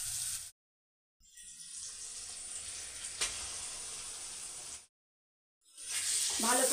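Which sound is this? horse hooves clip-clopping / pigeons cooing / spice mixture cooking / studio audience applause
spice mixture cooking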